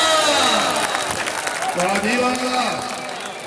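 A stadium crowd at a match at Khan Stadium in Bhakkar claps and cheers loudly and continuously, with voices shouting over the dense applause throughout.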